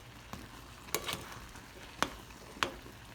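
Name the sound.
cranberries popping and bursting while boiling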